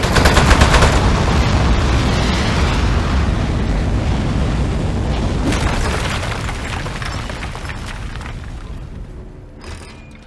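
Gunfire and explosions from the video game Aperture Desk Job. Dense, rapid booms and bursts keep rolling at close range, then thin out and fade toward the end.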